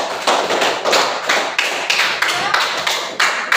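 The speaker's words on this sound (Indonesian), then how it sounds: "tepuk tangan untuk Mario" A school class applauds a student during a maths lesson with loud, close clapping. The claps come in rhythmic, evenly spaced bursts for a few seconds.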